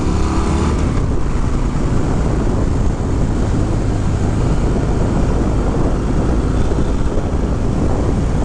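A 2022 Harley-Davidson Fat Bob pulls hard on a street test ride, its engine roar blended with heavy, continuous wind rush, loud and steady throughout.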